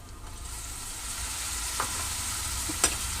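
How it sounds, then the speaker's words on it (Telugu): Onion and tomato fry in a pan for a gongura prawn curry, a loud continuous close sizzle with a couple of sharp stirring clicks. "ఉల్లిపాయ చక్కగా ఏగిందండి ఈ ఉల్లిపాయ ఏగింది కాబట్టి ఇప్పుడు మనం ఒక పెద్ద సైజు టమోటా కోసుకున్నామండి ఆ టమోటా కూడా వేసుకుందాం"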